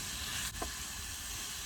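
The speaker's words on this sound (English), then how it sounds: "we're just going to throw it in the pan. And we're going to cook it up nice," Rice sizzling and frying steadily in a pan on a camp stove outdoors, a constant close hiss that runs unbroken through the whole clip.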